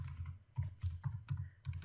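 Typing on a computer keyboard while writing code in Visual Studio, a run of close, clattery keystrokes in quick bursts with short pauses between them, no voices.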